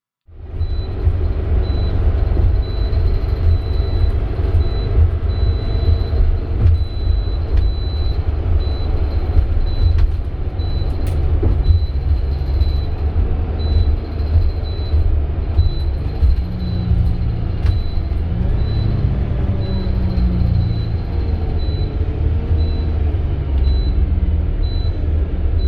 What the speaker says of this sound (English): let's have a listen to what that strong engine and this annoying beep sound like now